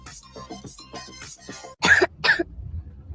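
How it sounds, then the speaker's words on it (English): A child coughs twice in quick succession, close and fairly loud, following a stretch of rhythmic low murmuring. "What about my cough?"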